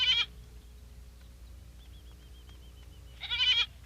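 Goats bleat twice, one loud, close, wavering cry at the start and another after a quiet gap, with a soft chirping in between over low background rumble.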